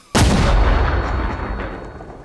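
An artillery illumination round fired at charge 2 in Arma Reforger: one sudden, very loud boom followed by a long, heavy rumbling decay that fades over two seconds.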